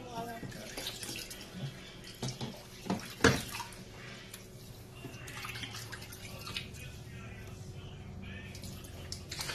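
Water is poured and splashes during a bath for six-week-old puppies, with a few sharp splashy bursts early on giving way to a quieter, steady trickle. The sound is fairly soft and close.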